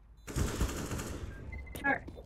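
A first-person shooter game fires a quick rattling burst of gunfire, then goes quiet briefly before a sharp crack and a short whining tone.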